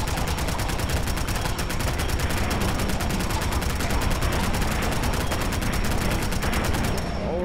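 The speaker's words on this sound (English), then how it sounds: "Time to shoot until I have to reload." Rapid, dense gunfire in the video game Fallout 4, a continuous fast-repeating burst of shots lasting several seconds, loud and unbroken, ending abruptly.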